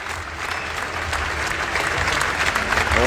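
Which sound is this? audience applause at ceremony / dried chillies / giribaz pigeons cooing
audience applause at ceremony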